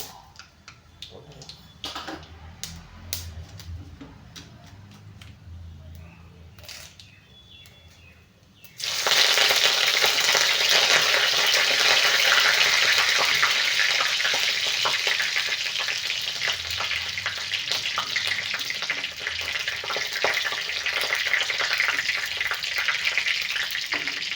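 Mustard seeds and urad dal frying in hot oil in a pan, a loud, steady sizzle that bursts in suddenly after quieter kitchen clatter and holds on with crackling texture to the end.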